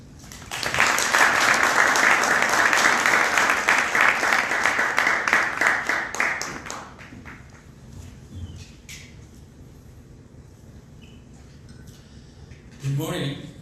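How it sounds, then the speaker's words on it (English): Warm audience applause welcoming a trade minister at a Korea–US FTA tenth anniversary ceremony, a full burst of clapping for about six seconds that fades to scattered claps and quiet room tone. "Please welcome him with a warm round of applause."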